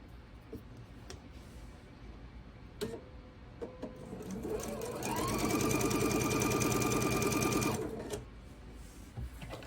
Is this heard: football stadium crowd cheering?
no